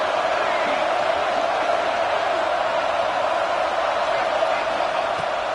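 Football stadium crowd noise during a Miami vs Oregon game, a steady, loud roar of cheering and yelling that fills the whole stretch with no clear breaks.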